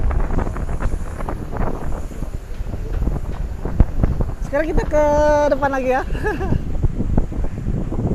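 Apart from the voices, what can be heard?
strong wind outdoors at a harbour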